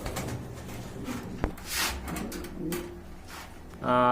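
Soft coos of lotan pigeons sound intermittently amid background shuffling and a sharp knock at a pigeon market, ending with a louder tonal noise.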